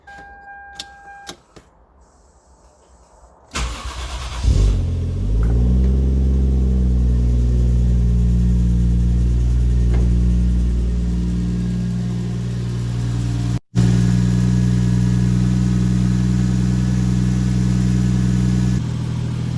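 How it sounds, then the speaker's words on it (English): A few clicks, then a Toyota 1JZ engine cranks and catches with a brief rev before settling into a steady, smooth idle close by, without pops or misfires, after a spark plug change. "It's actually idling very nicely. No little pops and misfires like I had before"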